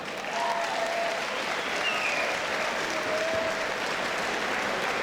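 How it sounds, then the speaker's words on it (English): A crowd at a cage-fighting event applauds both fighters after the bout, steady sustained clapping filling the hall at an even level, with a few faint whistles over it. "Ladies and gentlemen, round of applause for both fighters this evening."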